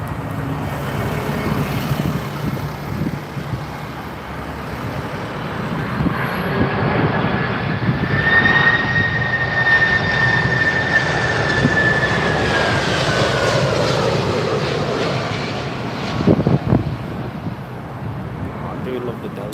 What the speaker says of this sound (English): Delta Airlines 767-400. That's this one just coming in now, folks.